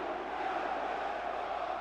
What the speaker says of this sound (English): And immediately the home crowd making their feelings plain about their opponents.